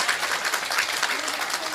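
A packed hall at a humorous poetry gathering breaks into hearty applause, a brisk, dense clatter of many hands at a fairly steady level, with a few individual claps popping out and voices faintly mixed in.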